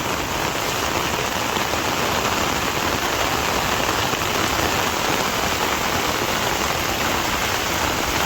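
Heavy rain pours down at a farm, a dense and steady hiss of drops on surfaces that stays loud and unbroken with no voices.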